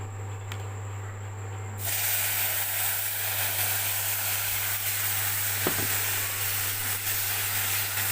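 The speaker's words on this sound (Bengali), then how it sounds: "সুজিটা ফ্রাই হয়ে গেছে বেশ লাল লাল হয়েছে এবার আমি এর মধ্যে জল ঢেলে দেবো" Water poured onto fried, browned semolina for halwa bursts into a loud sudden hiss of sizzling steam after a quiet start, then stays as a steady close roar of steam and bubbling.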